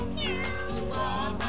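Several meows from a Minecraft cat in quick succession, close and clear, with no talking.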